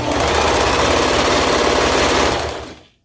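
A sewing machine stitches the side seam of harem pants, starting at the ankle, in one loud, close, rapid mechanical burst that runs steadily and then winds down to a stop.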